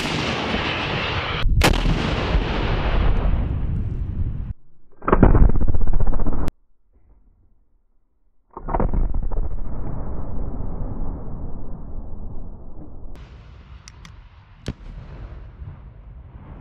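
An M3E1 Carl Gustaf multi-role anti-armor recoilless rifle fires on a range in loud, sharp blasts: an opening boom that rolls away, another heavy report a few seconds later, then a long echoing decay with a faint pop near the end.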